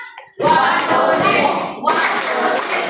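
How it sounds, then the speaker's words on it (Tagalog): A classroom of students claps together in two loud bursts, a thick rush of hand claps that cuts in sharply, dips briefly and surges again. "Isang magaling na palakpak!"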